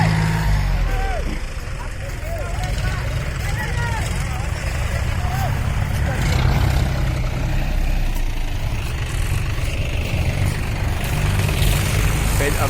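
A tractor engine runs with a steady, heavy low rumble while pulling out another tractor stuck in bad weather, and people talk over the constant drone.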